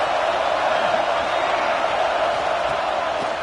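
Stadium crowd roaring steadily at a college football game against Ole Miss, a dense sustained wall of cheering and whoops from a large audience behind the defense on a big third down, continuous and loud throughout.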